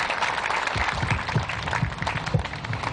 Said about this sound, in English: a nice round of applause once again, please